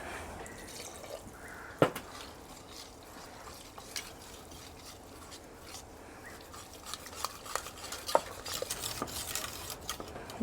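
Cream being stirred into a cooking pot with a utensil, giving soft continuous scraping and sloshing with a few sharp clinks against the metal sides, close and fairly quiet.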